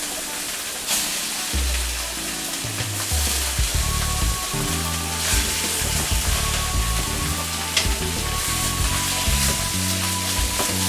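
Skin-on food hits a very hot pan with a loud, steady sizzle and crackle that continues throughout, with faint clinks and kitchen noise underneath.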